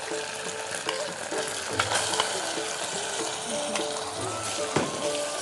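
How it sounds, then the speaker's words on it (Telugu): Mutton goes into a hot pan with onions and ginger-garlic paste for a mutton spinach curry, producing a continuous sizzle and frying crackle with scattered stirring clatter and faint background voices. "ఇప్పుడు మటన్ వేసుకోవాలి."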